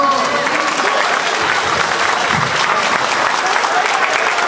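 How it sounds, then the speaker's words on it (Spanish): Guests at a quinceañera party clap steadily on the dance floor, a dense, continuous wash of applause that stays loud and even for several seconds. "Venga, fuerte, fuerte ese aplauso."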